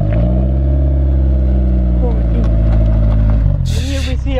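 A Honda S2000 sports car drives off-road with a close, loud, steady low engine drone that shifts pitch near the end, followed by a burst of hissing noise, while people talk over it.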